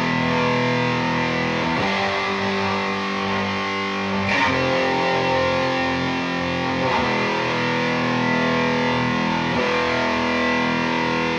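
Sustained distorted electric guitar chords played through a Carvin V3M amp ring out loud and thick, several chords changing every couple of seconds with long, heavy sustain.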